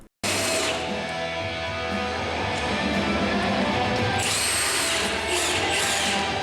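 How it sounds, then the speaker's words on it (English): A power tool loosens the lower shock bolt on an NB Mazda Miata during a coilover install, whirring loud and close in one sustained run with a rising, straining pitch near the end. "Loosen the lower shock bolt."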